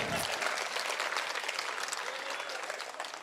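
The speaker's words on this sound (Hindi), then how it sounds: "ताली बजा के बताइए।" An audience claps at a Hindi poetry recital, a full burst of applause starting abruptly and holding steady, slightly fading toward the end, with faint crowd murmur underneath.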